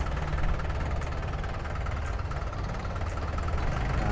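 A Yanmar EF453T 45-horsepower tractor diesel runs steadily while driving, a continuous low, knocking engine drone at constant level throughout.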